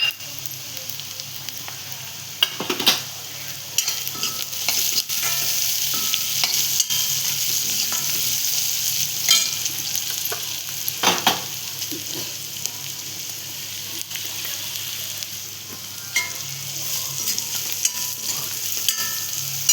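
Chopped onion fries loudly in a pan with asafoetida and turmeric, a dense continuous sizzle and crackle with a few sharper spatula clacks spread across it.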